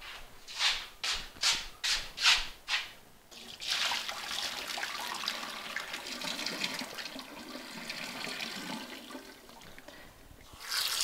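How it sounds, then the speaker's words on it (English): Boiled pork rinsed with running water in a kitchen, a few rhythmic scrubbing bursts first, then a steady splashing, trickling flow close by. "so rinse it out"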